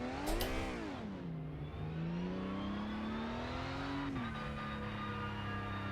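Porsche 992 GT3 Cup car engine in the Rennsport racing sim, revving hard with a rising and falling whine, then holding a steady high drone through a gear change, loud and continuous without talk.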